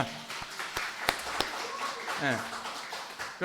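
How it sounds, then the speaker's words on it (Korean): A church congregation claps in scattered, uneven bursts during a Sunday service, individual sharp claps standing out against a quiet room while voices murmur and talk underneath. "자, 박수 한번 치겠습니다."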